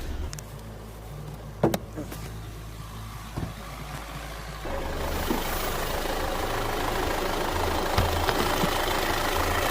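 An Audi or Volkswagen engine with the EPC light on idles roughly and shakes at low revs: a close, low, uneven rumble with a few knocks, then a louder, broader engine wash that continues steadily.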